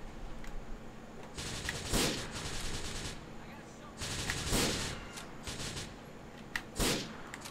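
Gunfire in Grand Theft Auto IV comes in several sharp bursts of shots spread across the clip, each cracking loudly over a steady background.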